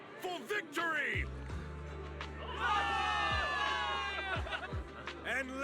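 A crowd of soldiers in the Zenless Zone Zero game cheers and shouts for victory in New Eridu, a loud sustained roar with a speaking voice heard over it.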